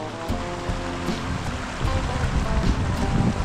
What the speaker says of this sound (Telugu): గ్లేషియర్స్ నుంచి వస్తున్న వాటర్ ఇదంతా మంచు కరిగి వాటర్లో వస్తుంది